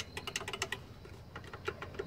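A quick run of small clicks from the metal buttons of a Thrustmaster TMX force feedback steering wheel, then a pause and a few more scattered clicks, close up and quiet with no talking.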